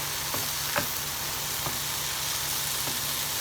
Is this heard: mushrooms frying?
yes